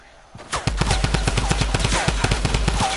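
Rapid bursts of video game gunfire crack out in a loud, steady automatic rhythm after a brief quiet start, with metallic pings layered among the shots.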